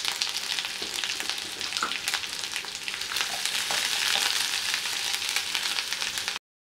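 Asafoetida sizzles and crackles steadily in hot oil for misal pav, a dense, close frying hiss with scattered pops, then cuts off abruptly.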